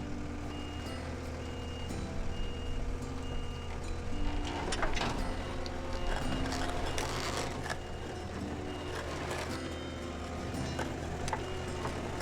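Reversing beeps from a vehicle backing up to a 38-horsepower chipper shredder on an off-grid homestead repeat at a steady rhythm over a low truck engine rumble, moderately distant, with no talking.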